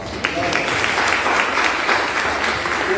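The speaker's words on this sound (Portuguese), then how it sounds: "Vamos dar uma salva de palmas." Steady applause from a church congregation, dense and continuous clapping across the whole stretch at moderate loudness, with a faint murmur of voices mixed in.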